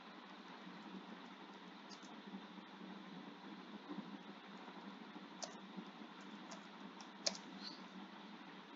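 Steady typing on a computer keyboard while a name is entered into an online registration form, soft rapid key clicks running continuously under a faint hiss with no voices.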